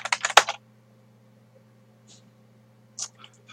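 Fast keystrokes on a computer keyboard entering a Cisco network command, a quick cluster of clicks at the start, then near silence over a low hum, followed by a few more isolated taps.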